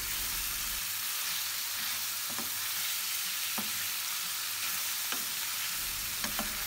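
Beef liver fries in a pan with a constant loud sizzle of hot oil, while a utensil stirs it with a few sharp scraping taps spaced about a second apart, close and without talking.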